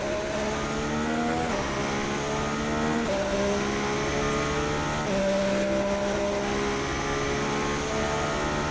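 An F1 car engine in F1 2016 screams through a Russian Grand Prix qualifying lap, rising in pitch through each gear, then dropping sharply at every shift in a repeated up-and-down pattern, loud and steady.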